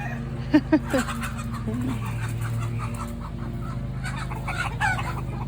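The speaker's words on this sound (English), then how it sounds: "He is a silver-laced Polish rooster." A silver-laced Polish rooster calls nearby as a backyard mixed flock of chickens clucks over a steady low hum, with a few sharp squawks early on.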